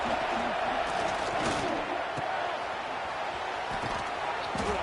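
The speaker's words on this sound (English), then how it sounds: "The Tide crowd rolling noise down onto Saban Field on third down" Dense, steady roar of a stadium crowd at an Alabama Crimson Tide home game on Saban Field in College Football 26, rolling noise on third down, continuous and loud with faint thuds and no clear talk.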